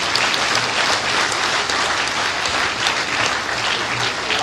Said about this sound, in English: So please keep clapping.